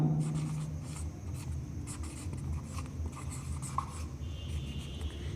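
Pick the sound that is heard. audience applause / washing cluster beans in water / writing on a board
writing on a board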